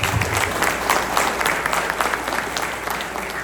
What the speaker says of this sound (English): Would you give our host a round of applause for a beautiful meal?